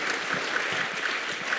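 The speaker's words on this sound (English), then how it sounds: "You can clap for that." An audience claps at a conference session on high-impact tutoring; a steady, fairly loud wash of many hands fills the whole moment with no voices over it.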